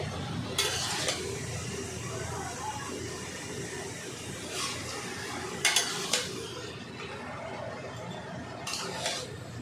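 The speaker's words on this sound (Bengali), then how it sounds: "ভালো করে মাংসটা একটু ভেজে নিয়েছি" Mutton pieces fry in a pot while being stirred, a low continuous sizzle broken by several scraping, clattering stirs of a utensil against the metal, with no speech.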